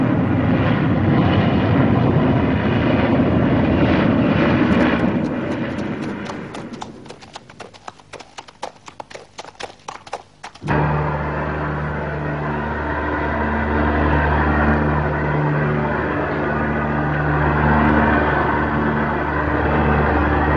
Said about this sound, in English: AN-32 and IL-76 aircraft transport stores and troops in support of one of the most dramatic chapters in India's history